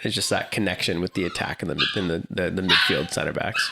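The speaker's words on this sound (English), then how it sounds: "Sorry for the loud dog." A dog barking loudly in the background, repeated yips and barks mixed under someone talking continuously in the foreground.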